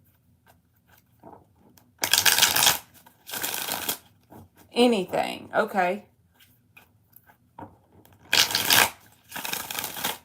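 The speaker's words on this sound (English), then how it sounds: "3 more shuffles" Tarot cards shuffled in several loud bursts, interleaved with a woman's speech and pauses between shuffles.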